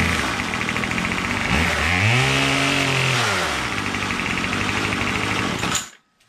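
A Troy-Bilt TB22 gas weed trimmer fitted with a new carburetor runs close and loud at a steady buzzing idle, rising briefly in pitch as it revs up and back down before it cuts off abruptly.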